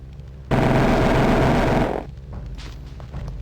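A loud, sustained burst of automatic weapon fire in the Terminator: Future Shock game, roughly a second and a half of continuous roar that cuts off into quieter game ambience.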